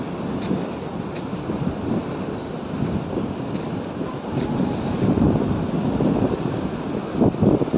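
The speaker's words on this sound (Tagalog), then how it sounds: "Ganda ng simoy ng hangin dito sa tabing dagat, sariwang sariwa, press na press." Blustery seaside wind rumbles against the microphone at a resort in Santa Isabel, mixed with a continuous wash of waves, steady and loud with no voices.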